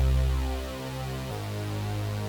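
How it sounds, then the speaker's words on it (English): A thick, buzzing Wide Unison Saw Bass synth preset from the Xpand!2 plugin holds a sustained low note, then shifts to a new pitch partway through, wide and full with no voices. "the individual layers are this bass preset called Wide Unison Saw Bass."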